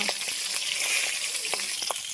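Fish head fries in hot oil in a wok: a bright, close hiss of sizzling with scattered small pops and crackles, steady and alone without speech.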